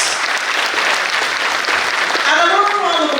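Loud, dense clapping from an audience at a central banking event carries throughout, and a voice speaks over it toward the end.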